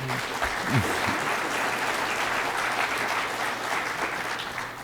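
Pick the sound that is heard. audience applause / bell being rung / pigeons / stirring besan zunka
audience applause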